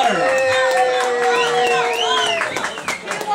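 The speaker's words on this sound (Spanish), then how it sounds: "¡Aplausos, vaya!" A crowd at a Peruvian cumbia dance event cheers and whoops loudly, with shouting voices and a little clapping mixed in.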